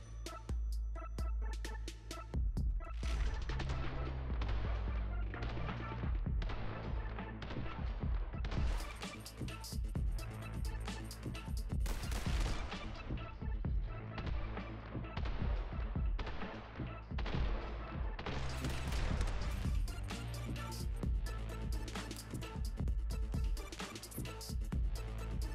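Shotgun blasts in the video game The Hong Kong Massacre, a dense and loud barrage of booming shots fired in rapid succession with crashes mixed in, continuing almost unbroken for the whole stretch.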